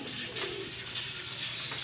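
Soft cooing of racing pigeons murmurs through a steady, noisy background, low and continuous without clear breaks.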